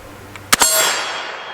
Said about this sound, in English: You're gonna shoot the hostage popper.